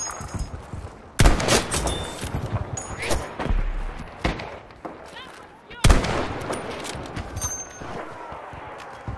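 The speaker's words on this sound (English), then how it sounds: "Artillery!" Artillery fire in the Battlefield V game on the Al Sundan map: heavy booming blasts, two especially loud impacts, amid scattered gunfire and rumbling explosions, with a shouted voice over the combat.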